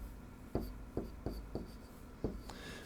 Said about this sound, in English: I'm going to only label every other one, so I don't have to write quite as much.